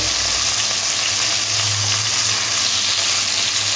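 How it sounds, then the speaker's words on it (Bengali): Green chillies sizzling and frying with spices in a hot pan, a steady dense crackle that carries on evenly throughout with no talking. "ভালো করে একটু ভাজা ভাজা করে নেব।"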